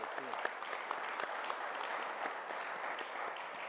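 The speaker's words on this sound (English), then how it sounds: "applause for the" An audience at a tech talk applauds the team, a sustained crowd clapping with sharper individual claps poking through, moderately loud and steady throughout.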